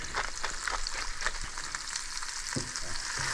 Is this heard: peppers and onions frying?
yes